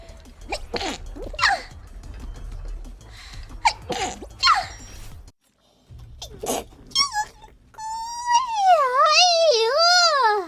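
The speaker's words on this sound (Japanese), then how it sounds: "くしゃみ。" A few sharp sneezes from a woman close up, broken by short breaths and a pause, then a high-pitched melodic voice sound near the end.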